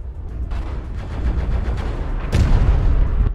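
Rapid, heavy bursts of LBX autocannon fire from a Marauder mech in Mechwarrior Online, loud booming shots in a fast continuous barrage with a sharper blast partway through.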